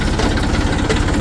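A construction machine's engine runs steadily at a site where an RCC cement wall is being built, a loud continuous low idling rumble with vibration and no talk.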